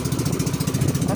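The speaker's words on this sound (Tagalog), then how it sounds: "Yung makina natin Procap yung gamit natin" A Procap 7.5 outboard engine runs steadily on a fishing boat, a loud, close, continuous pulsing drone with a regular throb throughout.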